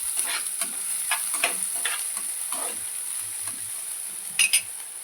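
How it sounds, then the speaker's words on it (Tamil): Chopped onion sizzles in a pan on a stovetop, a steady faint crackle with soft stirring scrapes and a couple of light clinks near the end. "அதே பேன் அடுப்பில் வச்சு வெங்காயம் சேர்த்துக்கலாம்."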